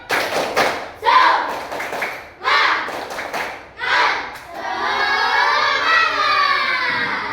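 A class of children claps in rhythmic groups for a tepuk semangat cheer, several clustered bursts of hand claps with brief gaps, then a drawn-out shout in unison from many young voices.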